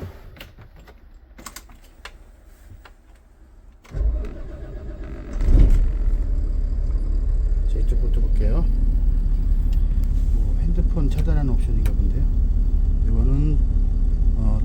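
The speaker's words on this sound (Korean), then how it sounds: "한번 시동 걸어볼까요" A 2019 Daewoo BH090 30-seat bus engine is cranked, catches with a low rumble and settles into a steady, loud idle. Light clicks come before it, and a voice speaks over the idle.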